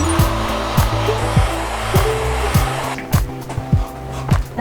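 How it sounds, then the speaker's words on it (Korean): A hair dryer blows steadily to dry a painting, a close, loud whooshing hum with repeated rhythmic knocks or thumps as it is moved about, and no talk. "이제 얘를 드라이기로 한번 말릴 거거든요"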